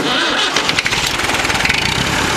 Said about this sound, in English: You gonna start, tractor?